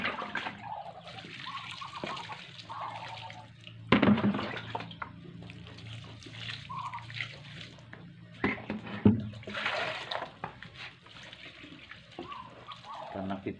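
Water pours and splashes into a container of chopped banana stem being prepared as animal feed, with intermittent sloshing and a couple of sharper splashes, while a person talks over it.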